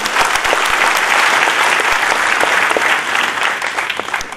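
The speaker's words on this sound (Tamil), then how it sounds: "அவங்க எல்லாருக்கும் ஒரு பலத்த ஒரு கைத்தட்டல் கொடுங்க" Loud, dense applause from an audience at a trading awards ceremony honouring about a hundred award winners, steady clapping filling the whole stretch with no talk over it.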